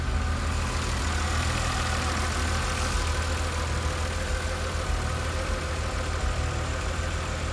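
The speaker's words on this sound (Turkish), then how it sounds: "İlk marştan sonra artık rölantisi de oturdu." A BMW Z3 M Coupe's engine idles evenly after its first start, a steady close rumble with no voices over it.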